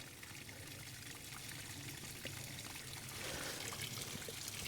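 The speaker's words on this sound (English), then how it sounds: "And as I'm pushing down, the water is going through the bottom of the filter" Water trickles steadily from a hand-pumped backpacking filter into a bottle, drawn from a spring in the snowy San Jacinto Wilderness; a close, quiet, continuous pour that swells slightly near the end.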